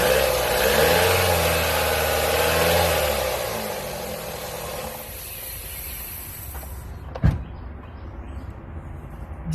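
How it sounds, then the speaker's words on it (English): Engine of a 2009 Nissan Sentra with a 2.0-litre four-cylinder, tested for exhaust back pressure, rising from idle to a steady rev near 2,500 rpm with a layered droning hum, then settling, with one sharp clack partway through. "Now we're going to rev it up to about"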